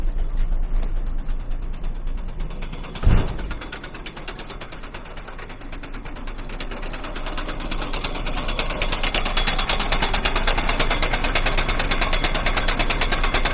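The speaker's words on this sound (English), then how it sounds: "So I'm going to go out and see if I can get this auger running today." A frozen farm feed auger in below-zero cold grinds and rattles as it starts to run, a continuous mechanical churning and ratcheting with one sharp knock early on, steady and fairly loud throughout.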